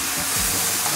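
Beef searing in a hot wok for Szechuan beef, a steady broadband sizzle and hiss holding loud and even, with a brief low tossing thump near the middle and no talk.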